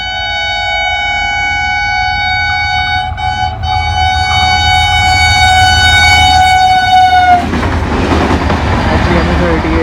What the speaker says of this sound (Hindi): और स्वीट विसल्स अभी आप लोगों ने सुनी